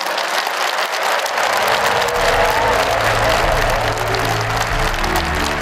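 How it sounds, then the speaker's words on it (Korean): Applause from a large audience after a presidential speech at a national advisory council launch ceremony, loud dense clapping that swells and holds steady, with a low murmur underneath. "다시 한번 대통령님께 큰 박수 부탁드리겠습니다"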